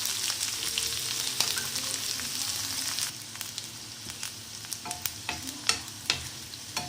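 Okra and onions fry in a pan with a steady close sizzle, broken late by a run of sharp stirring scrapes and taps as the vegetables are moved around.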